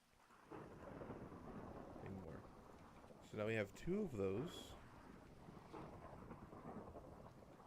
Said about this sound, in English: I kind of like the thunder.